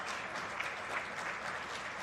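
Supporters applaud a Strachan FF under-19 side off the pitch after an NFYL U19 League Cup Final; steady, dense clapping from a crowd at moderate distance, continuous throughout without voices standing out.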